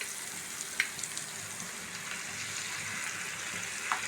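Bread batter is poured into a pan with two spoons of butter and fries in a soft, steady sizzle, with a couple of faint clinks from utensils and no talk.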